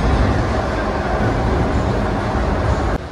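A Kolkata Metro train at Dum Dum station makes a loud, steady rumble and rolling roar that fills the whole clip and drops off slightly at the very end, with no voices.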